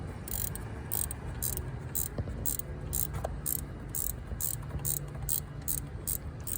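Ratcheting wrench turning on the valve cover bolts of a 2005 Mazda 3 2.3 during a valve cover gasket job, giving a rapid run of fine clicks in regular bursts, close up, with no talk.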